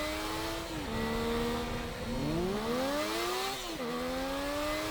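A car in the video game Teardown drives at full speed. Its engine whines steadily, and the pitch dips and swoops several times as it shifts and steers, with some tire noise underneath. The sound is continuous and fairly loud.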